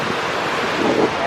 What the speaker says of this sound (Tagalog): Gara, ang lakas ng tubig.